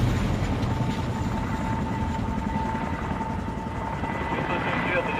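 A military helicopter flies overhead with a low, heavy rotor drone and a faint steady whine, loud and continuous throughout, while a voice talks over it.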